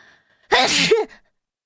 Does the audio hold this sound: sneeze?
yes